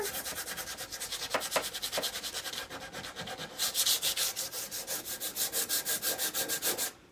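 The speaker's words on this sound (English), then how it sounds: "you just take a piece of sandpaper" Rhythmic scratchy strokes of sandpaper rubbed by hand back and forth across a wood surface to scuff it, steady and close, with no talking.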